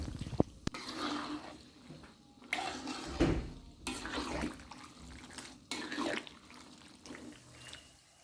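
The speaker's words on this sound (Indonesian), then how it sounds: "Ini kita aduk terus menerus selama proses penggorengan ya Mams, supaya nanti hasilnya matang merata." Peanuts frying in oil in a pan while being stirred continuously, a quiet steady sizzle with soft scraping and occasional clinks of the utensil.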